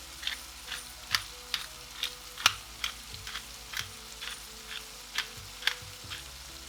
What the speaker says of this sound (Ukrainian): Відправляємо його на пательню і все добре перемішуємо лопаткою кілька разів.